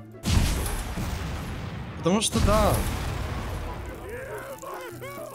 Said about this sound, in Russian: Что так громко взрывается?